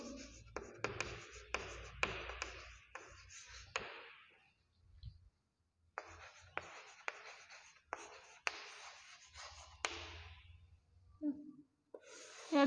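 Pen scratching on paper in bursts of quick strokes, writing numbers for a class 6 maths lesson, close and clear with short pauses between groups of marks.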